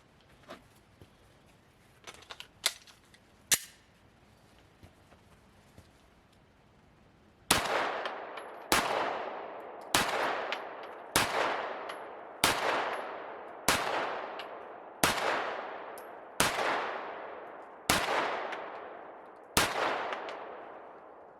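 Gunshots fired at a target: after a few faint knocks, ten sharp, loud reports ring out at a steady pace of roughly one per second, each followed by a short echoing decay, with no talking.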